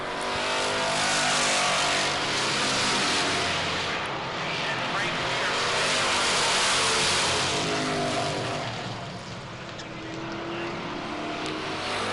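Near pro stock race cars roar around an oval track, a loud sustained engine drone that swells and fades as the pack passes, with a commentator talking over it.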